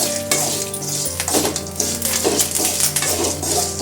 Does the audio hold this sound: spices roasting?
yes